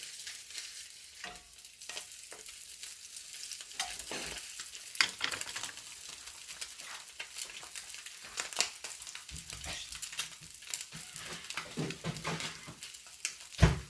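Spam frying in a pan, a fairly quiet, continuous crackling sizzle with scattered pops and small spits of fat, plus occasional faint clinks and scraping close by.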